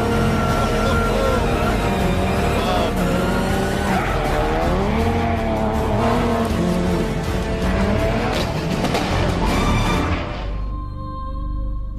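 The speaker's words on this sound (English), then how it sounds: "this car has been set up to handle just like a rally car would on gravel" Rally-prepared car driven hard on gravel, its engine revving and wavering loudly throughout with tyres skidding and scrabbling, before the noise drops away near the end.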